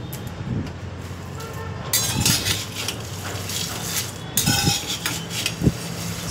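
Hot food being mixed with a spoon in a home kitchen, with repeated metallic scrapes and clinks against the pan in irregular bursts, close by.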